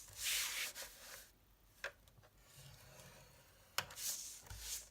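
Cardstock being scored for a gift box, heard as soft, quiet rubbing strokes that sweep in short bursts with brief sharp ticks between them.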